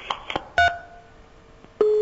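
Telephone line tones during a TV call-in show as a caller's connection drops: a few short dial-style beeps, then a sustained steady tone, with faint background noise and brief voice fragments.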